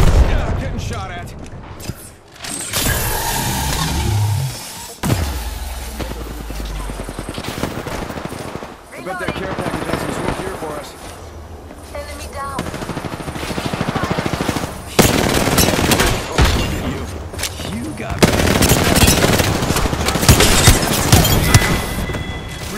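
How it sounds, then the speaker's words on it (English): Apex Legends gunfire crackles in bursts of machine-gun and gunshot fire across a noisy firefight, loud and dense in places, with game music and effects alongside and players talking over it. "Yeah, getting shot at."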